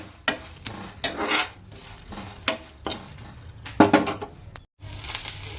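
Beans stirred in a frying pan with oil, irregular scraping strokes and brief bursts of sizzle, loud and close, with a sudden short gap near the end.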